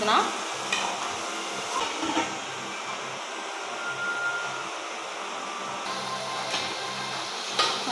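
Chopped tomatoes fry in a pan with onion and chilli, giving a soft continuous sizzle broken by occasional spoon-stirring scrapes and clinks, fairly faint and without talk.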